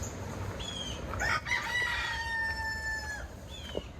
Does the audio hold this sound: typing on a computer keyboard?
no